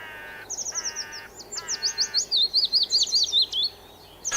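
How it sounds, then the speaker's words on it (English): A pied flycatcher and other newly arrived migratory birds sing in spring woodland, with bright high chirps and trills repeating in quick bursts and a rhythmic series of short tonal phrases, loud and close with no talk. "Like this beautiful little pied flycatcher here."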